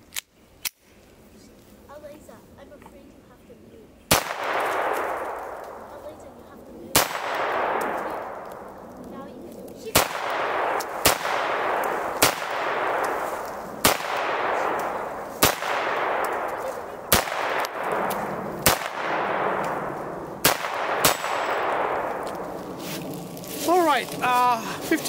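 Beretta M9 9mm pistol firing about a dozen loud, sharp shots at uneven intervals, each followed by a brief ringing decay, with a few metallic clicks near the end and no talk.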